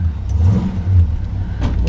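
A 1971 Pontiac LeMans Sport convertible's engine rumbles and revs up nearby, with a low throaty drone that rises and falls briefly.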